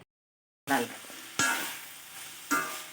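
Pieces of ivy gourd (dondakaya) frying in a pan for an onion-chili stir-fry, with sharp bursts of sizzle at each stir, about three close scrapes, fading between strokes after a silent start.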